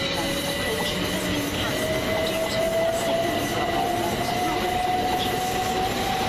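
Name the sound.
Govia Thameslink Class 387 train, 387119, at East Croydon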